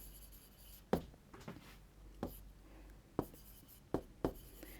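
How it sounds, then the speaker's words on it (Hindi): Chalk or marker strokes write numbers on a board, heard as a handful of short, sharp taps and scratches spaced irregularly, close and fairly faint in a quiet room. "Let us write down"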